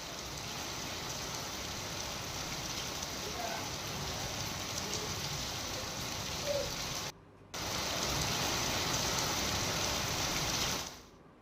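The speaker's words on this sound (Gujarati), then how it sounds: "વહેલી સવારથી સુરતમાં ભારે વરસાદ અનેક વિસ્તારમાં પડી રહ્યો છે" Heavy rain falling across parts of Surat, a steady dense hiss and patter of rain on surfaces that runs continuously, with a brief dropout near the end before fading.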